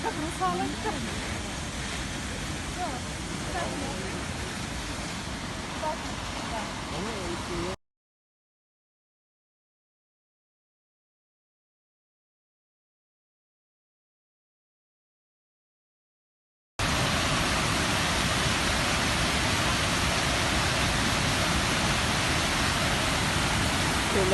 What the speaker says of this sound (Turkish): Güzel Antalya'mızın güzel şelalelerinden biri. Arpus Kaldıran Şelalesi.